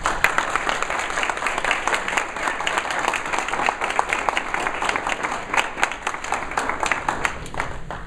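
An audience at a talk on white supremacy and the politics of race applauds steadily to welcome speaker Glenn Morris, a dense, sustained wash of clapping from a full room with no break.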